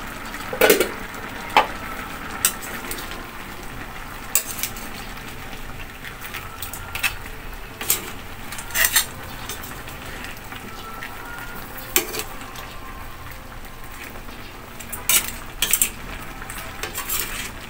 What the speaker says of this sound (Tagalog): So haluin muna natin guys para yung nasa ibabaw ay mapunta sa ilalim